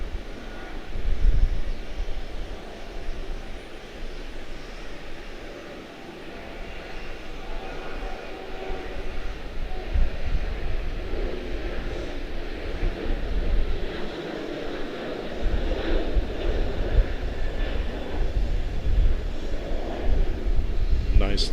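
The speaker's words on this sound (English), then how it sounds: "Nicely done for the 738. First aircraft of the day for us." A Boeing 737-800 airliner at Charlotte-Douglas International Airport gives a steady, moderately loud engine roar with low rumble throughout, heard outdoors in breezy conditions with someone talking over it.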